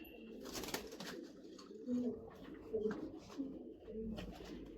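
A racing pigeon coos softly nearby, several low throaty rolling calls repeating over a quiet background.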